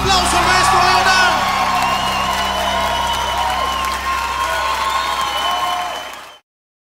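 An audience applauds and cheers for an Argentine singer-songwriter, a dense, loud wash of clapping and whoops that holds steady and then cuts off abruptly, with voices audible in the crowd.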